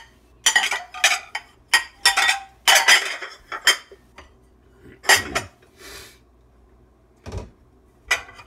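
Dishes, pots and cutlery clatter and clink during fast hand dishwashing at a sink, with loud bursts of sharp knocks and scrapes packed together early on, then sparser clanks with quiet gaps.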